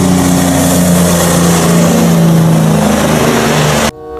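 A long tanker truck engine revs loudly and steadily, a droning motor that holds for about four seconds and then cuts off abruptly.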